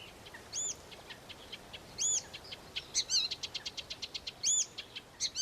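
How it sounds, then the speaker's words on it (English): Birds sing in Broadland reed beds in East Anglia, with clear repeated whistled calls and a quick chattering run of notes against a quiet outdoor background. "these wide Broadland skies are filled with birdsong"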